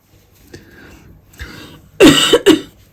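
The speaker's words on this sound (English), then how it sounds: "So I've got this really nasty cough that will not shift." Soft breathy noises lead into two loud, close coughs from a persistent, nasty cough near the end, the second short and sharp.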